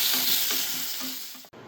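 Bay leaf, cloves, cardamom and cinnamon sizzle in hot oil for a Chettinad mutton kuzhambu, a close, steady hiss with a few faint stirring scrapes, cut off abruptly near the end.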